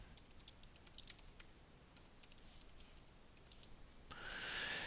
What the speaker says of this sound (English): and we type some text